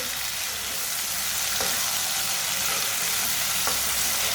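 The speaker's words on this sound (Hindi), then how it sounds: "1 बारीक कटा हुआ टमाटर डाल लेंगे। टमाटर को भी 2 मिनट के लिए पका लेंगे।" Finely chopped tomato fries in a pan for a chickpea curry, giving a continuous, even sizzle and crackle with faint stirring clicks and no talking.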